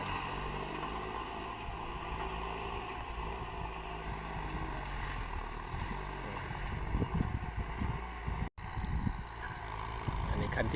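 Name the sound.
boat engine running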